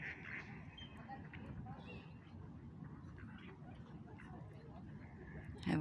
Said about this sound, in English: and the sounds of ducks.